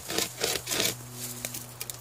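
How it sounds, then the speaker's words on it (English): A pocket-sized chain hand saw with a carbide-tipped chainsaw blade cuts through wood in three quick back-and-forth rasping strokes, then softer scraping, fairly close and without talk. "It's made of a genuine carbide tipped chainsaw blade, and you know, as you can see, it does a pretty good job"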